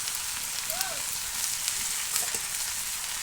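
Green chillies and finely chopped onion dropped into hot oil in a pan, giving a steady, fairly quiet frying sizzle with small crackles and faint stirring sounds throughout.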